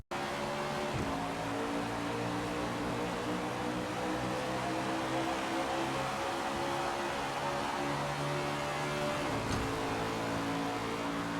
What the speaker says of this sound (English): Engine sounds can be harsh at times and certainly can become a bit annoying during long green flag runs